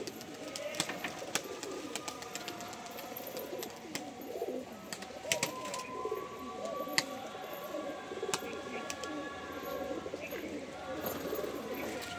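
Pet pigeons at a house cooing in soft, repeated throaty calls, with scattered chirps and small ticking sounds around them, close by and moderately quiet.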